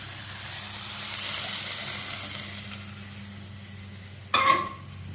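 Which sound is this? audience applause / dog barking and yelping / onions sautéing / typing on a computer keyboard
onions sautéing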